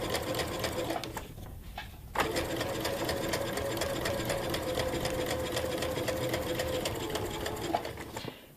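A sewing machine stitches a practice seam at a slow pace, a close, continuous mechanical whir that pauses briefly near the start and resumes steadily before stopping.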